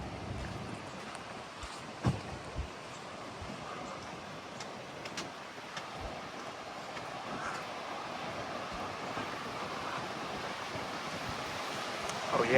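Ocean surf at a beach access point in the Seaside area along Highway 30A, a steady broadband wash of waves with wind rumble, fairly close and continuous for the whole stretch, no voices.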